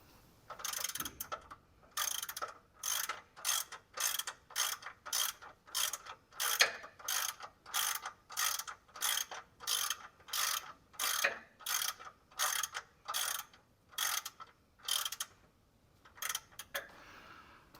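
Steady ratchet clicks as the oil drain plug is threaded back into the sump under a first-generation Toyota 4Runner SR5, about twenty-five evenly spaced bursts in a fast, regular rhythm, close and clear with no talk.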